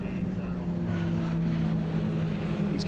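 A large pack of MG ZR race cars sweeps past on a racing circuit, a steady loud engine drone with layered tones sustained throughout.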